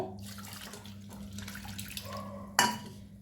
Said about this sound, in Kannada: ಈಗ ನಾನು ಅವಲಕ್ಕಿಗೆ ನೀರು ಹಾಕ್ತೇನೆ ತೊಳಿಲಿಕ್ಕೆ